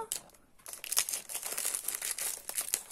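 Plastic packaging of aubergine-coloured envelopes crinkles and tears open in a close, busy burst of rustling that starts after a brief pause and continues steadily.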